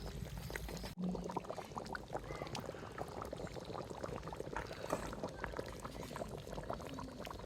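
Spicy fish curry bubbles steadily in a pot as the remaining fish pieces are added after the fish head has simmered, a dense, continuous close boil with a brief dip near the start.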